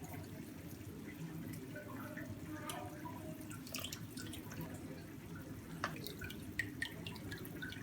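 Soaked lentil dumplings for dahi bhalle are squeezed by hand, water dripping and trickling faintly in scattered drops over a low steady background hum, with no talking.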